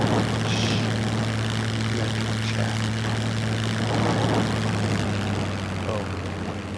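Propeller airplane in the SCUM video game, a steady droning engine hum holding throughout while people talk over it.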